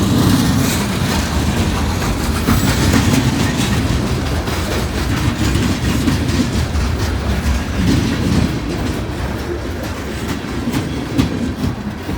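Three new locomotives haul a train uphill through snow, heavy engines grinding low and loud while wheels clatter steadily over the rails, continuous and close with no pause.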